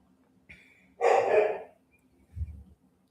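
A single dog, a sister's pet back from a long walk, gives one loud bark burst in the middle, with a fainter yip before it and a low thump after, set against a quiet room.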